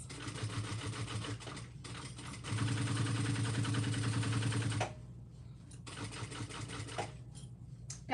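Sewing machine stitching through several layers of canvas to baste a crossbody bag in place, a steady close mechanical whirr in bursts, with the longest and loudest run in the middle and shorter runs before and after.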